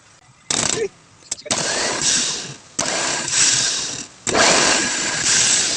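A starter motor on a Howo 380 dump truck cranks in loud bursts, about four separate whirring runs of a second or so each, broken by short pauses.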